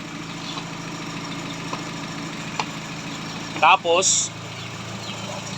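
A car engine idles with the aircon on and a fault dropping its RPM, a steady low hum through the whole stretch, with someone speaking briefly near the end.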